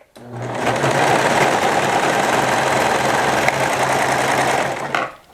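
A serger runs continuously as it stitches a fabric scrunchie, a loud, steady, close mechanical whirr lasting about five seconds before it winds down and stops.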